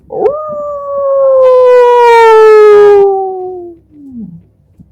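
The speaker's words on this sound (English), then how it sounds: "you hear the wolves howl." A wolf howl from a winter fantasy tabletop game sound effect: one long, loud, mournful cry that rises, holds steady, slowly falls and fades, standing alone with only a faint low rumble beneath.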